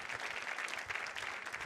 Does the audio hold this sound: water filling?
no